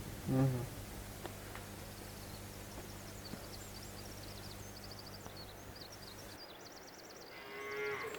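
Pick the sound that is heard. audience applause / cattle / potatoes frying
cattle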